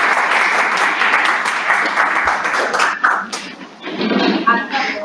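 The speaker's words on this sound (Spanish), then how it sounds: "Aplausos a ustedes que lograron seguirme" An audience applauds after a presentation on pressurized irrigation systems, a dense, steady burst of clapping that thins out briefly before picking up again near the end.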